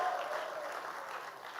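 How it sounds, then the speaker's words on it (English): Crowd at a tech and finance conference clapping and cheering, a continuous broad roar of applause with voices mixed in, steady throughout. "Like shout, clap, celebrate him."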